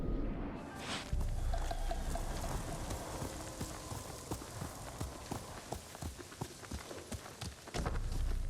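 Horse hooves clip-clopping at a steady gait while riding through a field in the game Ghost of Tsushima, rhythmic and fairly close, with soft ambient wash and no talk.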